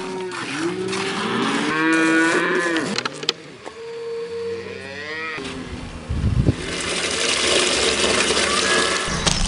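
Cattle on a Guarani community farm where cows are milked for cheese, giving loud, drawn-out moos one after another close by, followed by rustling and shuffling noise.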